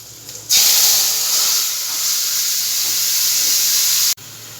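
Boiled green mango tipped into hot oil seasoned with five-spice tempering, giving a sudden loud, steady hiss and sizzle that holds for several seconds, then cuts off abruptly.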